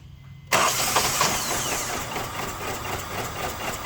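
A 1999 Honda CR-V with poor compression cranks during a compression test, the starter kicking in abruptly and then droning in a steady, rhythmic whir, close and loud.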